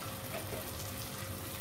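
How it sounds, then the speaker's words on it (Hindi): Water being poured into a paneer masala gravy, a steady soft pouring wash lasting under two seconds with no other sounds. "अब यहाँ डालिए 1 कप ऑफ वाटर"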